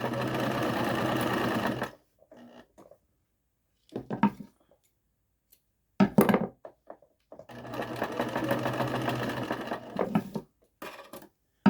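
Sewing machine stitching a seam on a tassel for a jumper or blouse, two loud steady bursts of rapid mechanical whirring separated by quiet gaps with small clicks and handling knocks.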